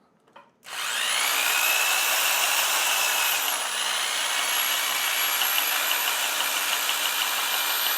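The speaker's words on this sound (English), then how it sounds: "Take a drill." A power drill spins a Serve Tite 250 bowstring serving tool on a tight string in a serving jig, giving a loud, steady high-pitched whine that starts abruptly and holds, briefly dipping in pitch.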